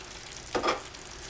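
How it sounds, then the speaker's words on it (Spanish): Chicken placed into a pan on top of boiled vegetables for pollo peperonata, giving a short, moderate burst of sizzling against a quiet steady background, with no voices. "Vamos a colocar el pollo"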